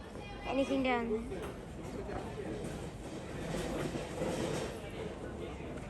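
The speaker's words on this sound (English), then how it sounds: "We arrived at Freshwater Station, and the train will be arriving" Kuranda railway train rumbles and clatters as it approaches Freshwater Station in a rainforest setting, a broad rolling noise building then easing, while people chat nearby and a voice rises over it.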